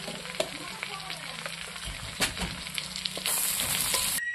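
Crushed garlic and white cumin sizzling in hot oil for a Bengali banana flower dish, a close, steady frying hiss with small crackles that grows louder toward the end, no talk.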